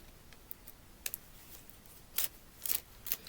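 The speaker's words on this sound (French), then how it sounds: "Je vais couper le plastique qui est là." Scissors cutting through plastic packaging around a paper craft kit: a few sharp, crisp snips spaced apart, the loudest cluster near the end, close and fairly quiet with no talking.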